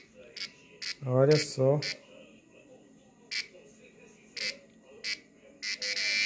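A cicada held in the hand gives short, buzzing, rasping bursts, spaced irregularly and heard up close, while a person speaks briefly in between.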